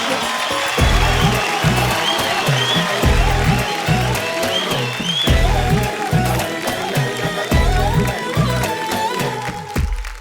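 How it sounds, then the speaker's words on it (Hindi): Studio audience applause on a wedding-celebration show: steady clapping from the crowd alongside a thumping rhythmic beat. "जोरदार तालियां"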